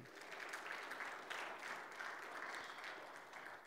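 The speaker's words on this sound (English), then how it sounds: "let's give the Lord a hand clap today" A church congregation clapping during Sunday worship, a steady, dense round of many hands heard from a distance and fairly faint, with no talking over it.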